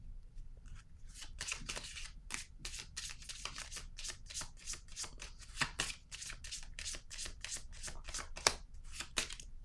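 Deck of cards shuffled close up in quick repeated riffles, a steady run of crisp flicking bursts with brief pauses, quiet and alone without talk.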